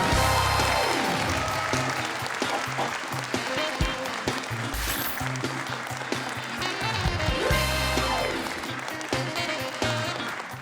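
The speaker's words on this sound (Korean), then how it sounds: "박수로 맞이해 주시기 바랍니다." An audience at a Korean lecture event applauds to welcome a political science scholar onto the stage. Sustained, full clapping lasts around ten seconds, with music and crowd noise running underneath.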